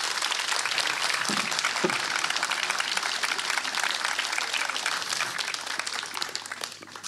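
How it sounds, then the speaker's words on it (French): Sustained applause from an audience after a talk on climate change and local weather, steady and fairly dense throughout, moderately loud with no voices over it. "Merci beaucoup, on peut l'applaudir très fort."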